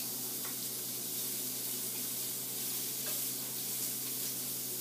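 Peppers and onions sizzling in a pan while being stirred, a continuous close frying hiss with faint intermittent scrapes of the utensil throughout.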